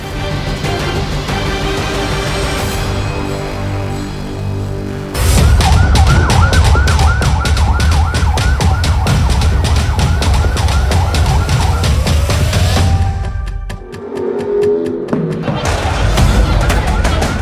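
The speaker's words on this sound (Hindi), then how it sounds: "फिलिस्तीन के वेस्ट बैंक के इस अस्पताल के बाहर एक के बाद एक एम्बुलेंस फ्लैश लाइट जलाकर पहुंचती है।" Ambulance sirens arriving one after another outside a hospital in the West Bank, loud and close, the wailing tones shifting and overlapping with heavy traffic rumble, then a brief lull before the sirens resume.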